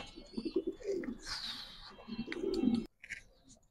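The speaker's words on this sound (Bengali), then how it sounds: "এটা স্প্যানিশ গরগরিয়া পোটার বলে কি আমরা এগুলো" Spanish Gorgoria pouter pigeons, a male and a female, give low throaty coos in a few close, repeated bursts, with a brief rustle midway and a short quiet gap near the end.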